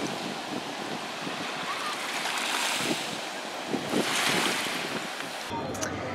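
Ocean surf and gusting wind at Two Lovers Point, a clifftop overlook in Guam, roar together in a broad wash, with wind buffeting the microphone and swells rising and falling.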